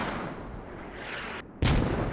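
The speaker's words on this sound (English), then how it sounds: "Mortars coming out from US." Mortar rounds fire in the Squad military video game: heavy, rumbling artillery noise rolls on continuously, then a short dip breaks into a loud, booming launch.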